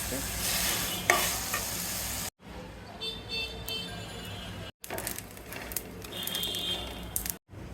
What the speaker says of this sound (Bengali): এটা ডিম ভাজতেছি।